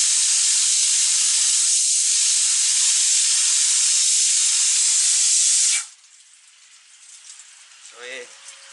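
A DIY rotary drum driven by a wiper motor and pulley runs a cycle with water, giving a loud steady spraying hiss that cuts off abruptly partway, leaving a quiet low rumble.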